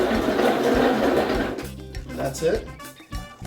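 A kitchen blender whirs steadily as it chops mango salsa with onion, its loud motor drone running for about a second and a half before cutting off, followed by brief speech.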